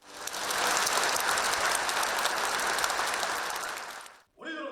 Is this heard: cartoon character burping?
no